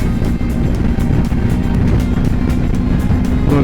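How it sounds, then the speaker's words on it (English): A BMW R1250 GS Adventure motorcycle riding on a road in continental Europe, heard as a loud, constant low engine drone with wind rumble, recorded close on the bike throughout. "we are now riding on the right side of the road in continental Europe with our little big BMW GSA"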